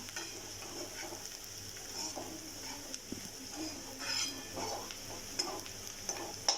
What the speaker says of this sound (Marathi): फोडणीतच हळद टाकायची आपल्याला. छान परतून घ्यायची.